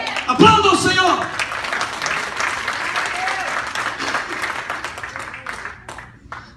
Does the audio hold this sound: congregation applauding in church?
yes